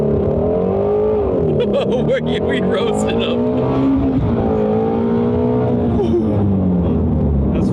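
A Shelby GT350R Mustang launches hard from a standstill to 60 mph, its engine note rising steadily through the gears and staying loud and close throughout, with people talking and laughing over it.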